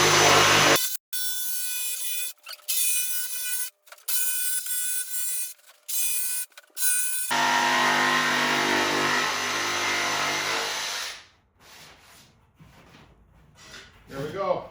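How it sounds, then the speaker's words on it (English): A jigsaw cuts along a marked line through a Sanitube being made into a side table: first a series of short loud bursts, then one sustained buzzing cut that stops abruptly, with a voice heard near the end. "We're going to use the jigsaw"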